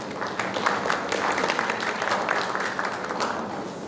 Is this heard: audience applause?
yes